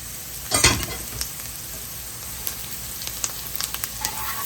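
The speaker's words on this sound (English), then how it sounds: "The onions have been sauteing for about a couple of minutes now" Onions sauteing in a pan as flour, salt and black pepper are stirred in, giving a soft steady sizzle with a louder scraping burst early on and scattered light clicks of the spoon.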